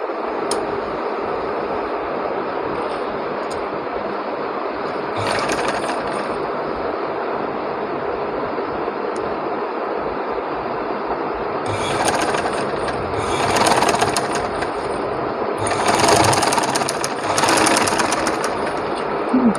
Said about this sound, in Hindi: इस कट से लेकर इस कट तक एक सिलाई मज़ीद लगा दूँगी।